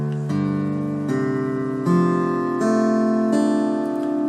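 Acoustic guitar with open strings tuned a whole step down, bottom E dropped to D: a few open strums ringing out one after another, each left to sustain, close and clear with no talking.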